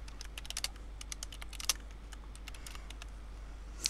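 Quick, faint clicking of a computer keyboard as headings are typed, irregular bursts of keystrokes over a steady low hum, with no talking.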